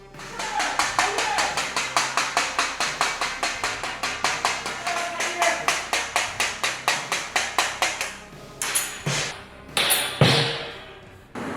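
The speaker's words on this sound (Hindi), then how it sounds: "थाल बजाते हुए सूरज ईशा को पुकार रहा है" A metal plate (thaal) is struck in a steady, rapid rhythm, ringing sharply and loud, then a few heavier, irregular clangs near the end.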